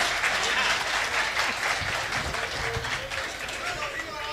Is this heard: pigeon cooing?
no